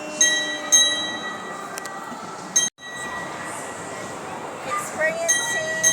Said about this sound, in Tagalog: Experiencing the train in SM SRP.